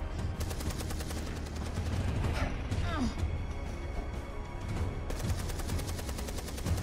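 Gunfire from a war scene in the video game Beyond Two Souls, a dense rattle of shots and crashes running continuously under voices and background noise.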